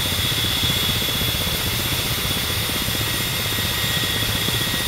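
A Ka-50 Black Shark attack helicopter in the DCS flight simulator flies on in a steady, loud, unbroken rotor and turbine drone with a constant high whine.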